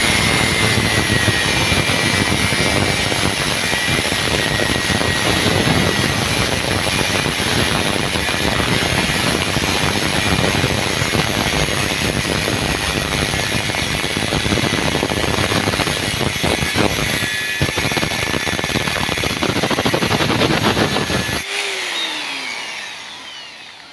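A loud, close angle grinder screams continuously against a broken aluminum engine crankcase for a long stretch, then cuts off and winds down.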